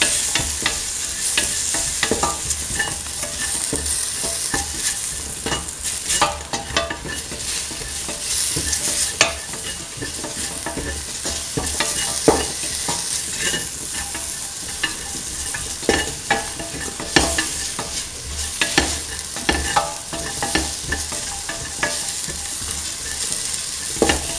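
Mung beans and ivy gourd stirred in a frying pan, constant sizzling with repeated spatula scrapes and knocks against the pan, close and fairly loud, no one speaking.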